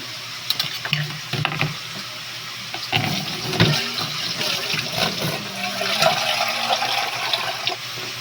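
Water runs and splashes into a cooking pot for ginataang papaya with onion, garlic and smoked fish, a continuous gurgling pour with a few louder splashes, no talking.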